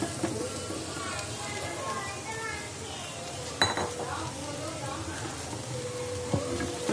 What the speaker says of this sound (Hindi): अब हम इसमें हमारे पोटैटोज मिक्स कर लेंगे।